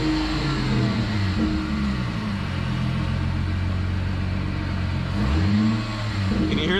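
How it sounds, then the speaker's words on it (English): A Plymouth Prowler engine runs steady and close after starting, its deep exhaust rumble topped by a persistent nasty whine from a faulty accessory, with a brief rev near the end. "one of the accessories has a pretty nasty whine to it"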